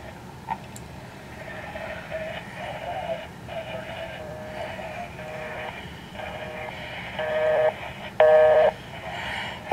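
Busy signal on a cell phone call during a regional power outage: repeated electronic tone bursts in a steady on-off pattern, with a few sharper beeps near the end, over a faint background hum.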